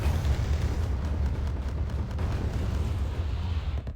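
Bomb strike explosions in the strategy video game Wargame: a continuous deep, rumbling roar of blasts, fairly loud and steady throughout, with no talking.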